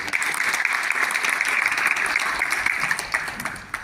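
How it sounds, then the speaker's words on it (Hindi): A crowd at a Green Army event in a hall in Raipur gives loud, sustained applause, a dense wash of many hands clapping close by with no voices over it. "उन्होंने जोरदार तालियां मिल गई"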